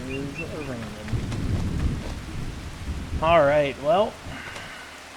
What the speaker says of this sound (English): it is raining, that is for certain.